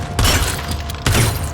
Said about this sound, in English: decides to cover it up by shooting some glass